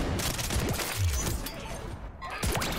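Shotgun slugs fired from the hip in Modern Warfare 3, several heavy booming shots in quick succession amid loud game combat noise, with no talking.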